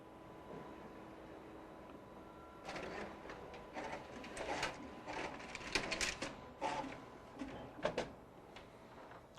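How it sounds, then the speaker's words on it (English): A Sharp MX-2310 copier prints a calibration test pattern, giving a faint mechanical whir with a run of quiet clicks and feed rattles that build midway. "it'll print out the printer calibration test patch"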